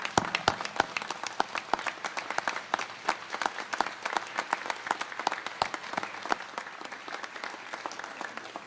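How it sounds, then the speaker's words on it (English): An audience claps in sustained applause, a crisp, dense run of individual hand claps at steady intensity for the whole stretch, fairly close and without talking over it. "a big round of applause for everyone here"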